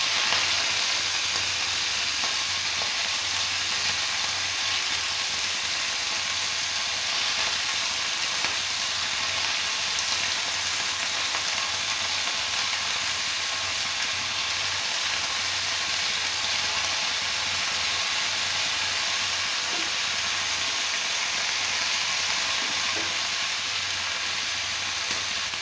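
Prawns frying in a pan over medium heat while making sorshe chingri, a steady unbroken sizzle that stays even and fairly loud throughout with no voices.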